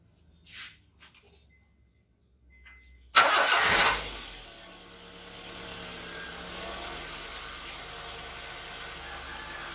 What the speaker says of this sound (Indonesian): Oke, kita coba starter.